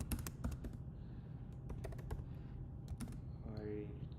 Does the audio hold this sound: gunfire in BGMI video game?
no